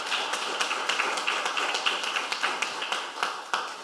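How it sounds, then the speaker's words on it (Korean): Audience applause for a professor at the close of a Korean talk concert forum, with sharp individual claps standing out over a steady patter of hands throughout. "교수님께 박수 한번 주십시오."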